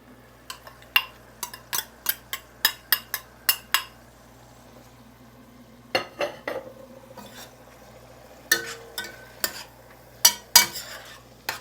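Chopped vegetables for Cajun stuffed bell peppers stirred into a pot, giving a string of sharp spoon-against-pot clinks and scrapes in clusters over a faint sizzle, with no talking.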